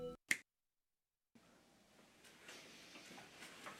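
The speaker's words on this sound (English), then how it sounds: "When I snap my fingers" A single crisp finger snap on stage at an awards-show hypnosis act, followed by a second of dead silence and then faint room ambience.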